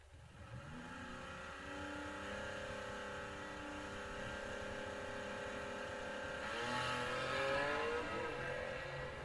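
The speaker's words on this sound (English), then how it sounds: "Hagen Gary left side, the 6-cylinder Firebird Stalker" At a drag race, a six-cylinder Firebird and a Pinto accelerate with a sustained engine drone, heard from a distance, that rises in pitch and swells toward the end.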